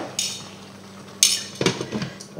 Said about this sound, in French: Je vais le couvrir